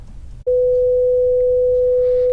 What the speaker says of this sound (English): let's start out with the original sine wave